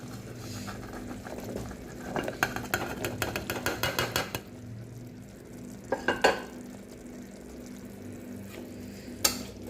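Bottle gourd pieces stirred with masala in a pan for a gourd kulambu, a ladle scraping and clinking in quick rhythmic strokes over a low sizzle, then a few scattered knocks.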